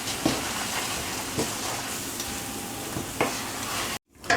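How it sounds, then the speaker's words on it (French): Spices such as cumin, turmeric and paprika stirred into paella in a pan, a continuous close sizzle punctuated by several distinct spoon scrapes at regular intervals, cutting briefly to silence near the end. "Là, je vais mélanger."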